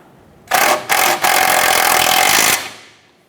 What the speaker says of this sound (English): Let's go ahead and snug down that nut.